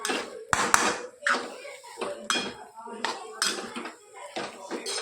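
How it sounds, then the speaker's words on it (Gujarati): Poha and coriander being mixed in a dish, a series of close clinks and scrapes of a spoon against the dish in uneven bursts. "સરસ બધું મિક્સ કરી લઈએ."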